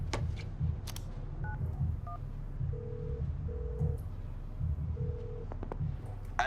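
Dialing tones from a phone call in the video game FIFA 19, a short series of separate beeps heard plainly over a steady low hum of background game sound.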